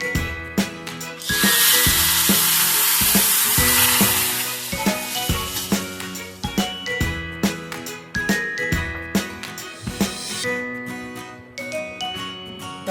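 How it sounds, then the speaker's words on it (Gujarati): Hot tempering of dried curry leaves and a pinch of asafoetida is poured into sambar, bursting into a loud hissing sizzle that fades as utensils clink and tinkle repeatedly nearby. "એને આપણે વઘાર હવે આમાં રેડી લેશું"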